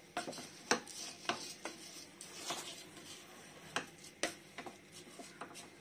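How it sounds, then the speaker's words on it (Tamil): Basmati rice is sautéed and stirred in masala, with quiet, soft scraping and repeated light knocks of a spoon against the pot at an uneven pace. "ரைஸ் அப்படியே நல்லா அப்படியே வதக்கி விடுங்க"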